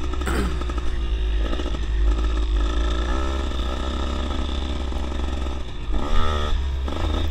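A dirt bike engine revs loudly up close while riding, with a steady buzzing drone, rattling clatter and a sharper rev surge near the end, and no talking.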